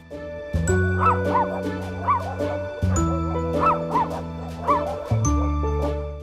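Several rescued dogs bark and yip repeatedly in bursts at an animal sanctuary in Alfonso, Cavite, Philippines, some nearby and some farther off, over a steady hum of background noise.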